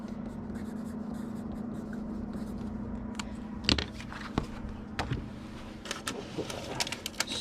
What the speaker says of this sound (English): I'm going to go ahead and do the writing on it so it can dry